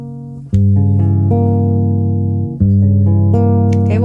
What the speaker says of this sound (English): The chord that you would be playing this scale over is a diminished chord.